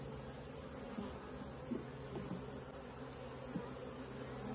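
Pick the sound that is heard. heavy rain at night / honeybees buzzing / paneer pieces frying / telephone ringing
honeybees buzzing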